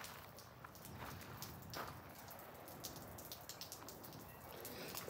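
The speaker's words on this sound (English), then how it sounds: "It's just drizzling right now." A light morning drizzle falls outdoors near trees, a faint, soft, steady patter of scattered drops with no voices.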